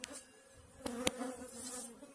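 Honeybees buzz inside a barrel beehive while a queen bee pipes, a steady droning hum with a sustained tonal note running beneath it and a few sharp clicks, close and fairly quiet.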